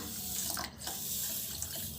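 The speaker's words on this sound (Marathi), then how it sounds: "मी याच्यामध्ये 1च कप पाणी घालणार आहे" A cup of water pours onto sugar in a pot while gulab jamun syrup is being made, giving a close, steady splashing stream with one brief dip.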